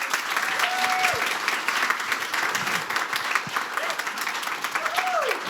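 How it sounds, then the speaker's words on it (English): A conference audience applauds after a panel on the economic empowerment of women and girls, with steady, even clapping throughout and a few brief vocal sounds rising above it. "Let's give them a big round of applause."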